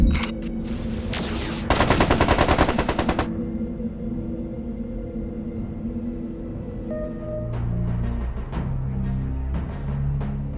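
Mechs in MechCommander 2 fire their weapons at a hangar: a dense burst of rapid automatic gunfire, then rolling explosions and lower booming impacts with a steady engine hum underneath, loud and close throughout.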